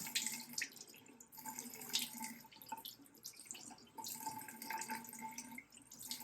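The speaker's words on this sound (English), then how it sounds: "Then you want to just rinse that off." Tap water running at a sink while the face is rinsed clean of oils during a skin care routine, a quiet close splashing and trickling with uneven bursts and no talking.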